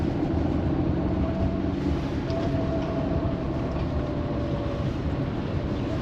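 A train rumbles past a railway level crossing, a dense, continuous low roar with rattling wagons, steady and close, with faint high squeals over it and no talking.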